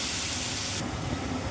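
Water hits a hot frying spice mix for a vegetarian soybean and potato khichuri and sets off a loud, steady sizzling hiss that fills the whole moment, with no talking.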